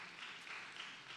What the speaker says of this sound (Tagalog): Pumalakpak nga po.